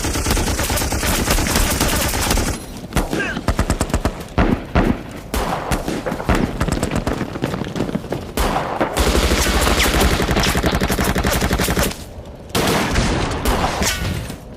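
Gunfire in the post-apocalyptic spaghetti-western video game Snowblind: a loud, dense barrage of rapid shots and automatic fire that rolls on almost without a break, dropping out briefly only twice.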